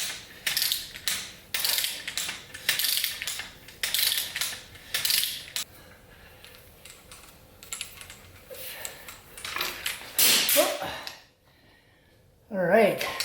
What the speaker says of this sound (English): Just going to start cranking this thing till the pulley comes off.